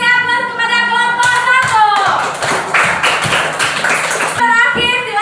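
Classroom applause for a student group in an Indonesian school lesson, a dense burst of many hands clapping for about three seconds, loud and close, framed by children's and a teacher's voices before and after.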